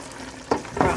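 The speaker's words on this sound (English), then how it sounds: "let me give Mr. Singh curry a turn for him" Duck curry sizzles and fries in a pot as it gets stirred, with two short scraping, bubbling bursts of the spoon turning it over.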